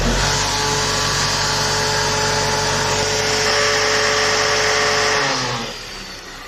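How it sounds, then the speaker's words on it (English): The hydraulics on a Scania truck's power take-off, running with a fault: a loud, continuous droning grind with a steady whine on top, which eases off and drops away near the end. "every time I use the PTO now, it makes a pretty bad noise"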